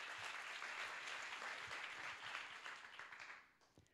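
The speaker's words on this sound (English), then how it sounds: "One more round of applause." Steady applause from a crowd at a bio summit, a dense wash of clapping that holds evenly then fades out near the end.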